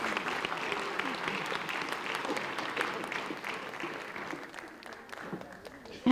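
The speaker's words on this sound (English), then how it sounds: "And another round of applause for our advanced placement program." Audience applause at a school board meeting, a sustained round of many hands clapping in a large room, moderately distant and steady before tapering off near the end.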